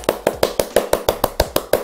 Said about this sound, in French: j'applaudis parce que je suis super content